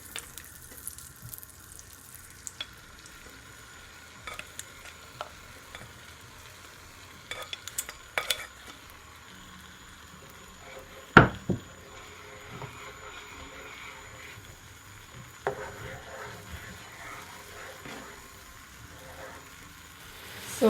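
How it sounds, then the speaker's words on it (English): A pan of honey sriracha sauce with butter bubbles at a low, quiet boil, with faint sizzling and a few sharp clicks and knocks from the stove. "So my sauce has come to a boil."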